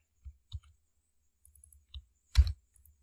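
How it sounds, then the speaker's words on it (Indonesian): A computer mouse gives a few sharp, isolated clicks at irregular intervals, close and fairly quiet, with one louder click near the end and no talk. "Wande, maka saya klik aja atau ketik aja Wande."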